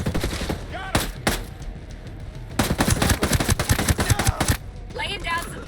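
Sharp gunfire in Ghost Recon Breakpoint, with single loud shots followed by rapid automatic bursts fired close up, dense stretches of rattling fire separated by brief pauses.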